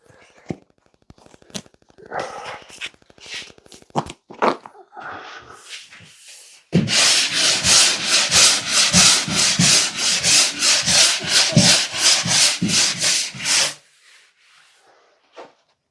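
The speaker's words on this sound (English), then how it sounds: "we need to sand these bits back and get rid of any of the lumps first" Plaster lumps are hand sanded off a wall, a brisk rhythmic scratching of steady back-and-forth strokes, loud and close, preceded by scattered scrapes and taps and ending abruptly in near silence.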